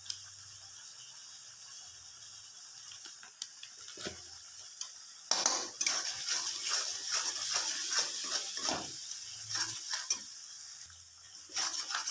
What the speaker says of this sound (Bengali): দিম লবণ সঙ্গে দিন জিরের গুঁড়া আর হলুদের গুঁড়া দিয়ে এটাকে ভালো করিয়ে একটু ভাজে নিন